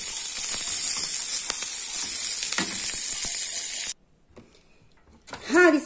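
Ora-pro-nóbis greens sautéing in butter give a steady, close sizzle that runs unbroken for about four seconds, then cuts off abruptly, leaving near silence before a brief voice comes in at the end.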